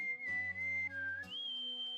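A whistle blown in the Suikoden video game Woven Web of the Centuries, a steady sustained tone that dips slightly then rises to a higher held pitch, clear and alone over a soft musical backing.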